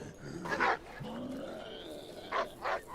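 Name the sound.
dog barking in the video game HumanitZ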